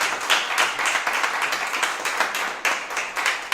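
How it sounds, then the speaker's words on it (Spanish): Audience applause after a talk about a book, with dense, steady clapping from a modest crowd, close and continuous for a few seconds. "De momento vamos a darle un aplauso a Javier"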